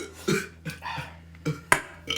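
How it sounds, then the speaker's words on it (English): Several short throaty burps after chugging carbonated Perrier, spaced irregularly with a sharper, louder one near the end, close and fairly loud with no talk. "Okay, I'm done burping"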